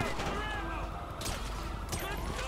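Gunshots in the video game GTA V during a shootout with police, two sharp cracks about a second apart set against a busy game soundscape, with a voice talking over it.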